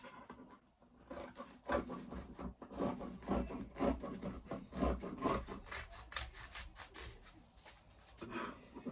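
Scissors cut through thick aso oke fabric for a bubu kaftan dress, a series of close, scratchy rasping snips with uneven rhythm and no voices.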